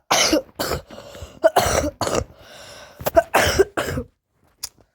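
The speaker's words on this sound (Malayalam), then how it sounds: "ചുമയാണ്" A person coughs repeatedly in close, harsh bursts, about eight hacks in quick clusters with throat clearing, then falls silent, during Roblox Build a Zoo gameplay.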